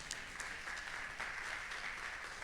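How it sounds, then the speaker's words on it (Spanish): A church congregation at a Sunday service claps together, a steady wash of applause held at an even level for a couple of seconds, heard from a distance. "¿Cuántos le dan un aplauso al Señor por esto?"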